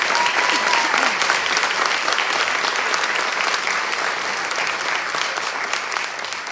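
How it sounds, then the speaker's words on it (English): An audience at a princess pageant applauds warmly, dense continuous clapping from a large crowd, loud and close, easing slightly toward the end without any talking. "Let's give all these wonderful young ladies a round of applause."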